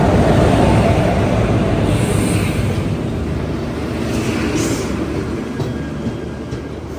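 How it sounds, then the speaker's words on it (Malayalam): A Jan Shatabdi Express hauled by a WP4 locomotive on the Konkan Railway rolls past in a loud, steady rumble of wheels and carriages that eases slightly toward the end. "ജനശതാബ്ദി എക്സ്പ്രസ് വന്നു."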